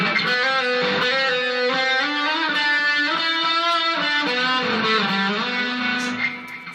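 Distorted electric guitar plays the interlude solo, a loud, sustained melodic line of held, singing notes with clear pitch changes, alone without talk.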